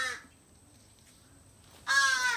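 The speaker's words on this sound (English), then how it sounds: "Crows, get out of here!" Crows caw near an alligator park habitat, a harsh call at the start and a louder burst near the end, with quiet outdoor ambience between.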